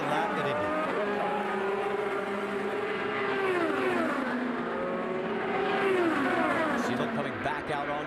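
IndyCar race cars at the 2013 Indianapolis 500 scream past at high speed, engine notes rising and falling continuously with Doppler sweeps over the whole stretch, loud and steady, while a commentator talks over the roar.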